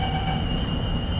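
A Singapore Thomson-East Coast line metro train rolls along, heard from inside the carriage as a loud, steady low rumble with a thin high tone above it.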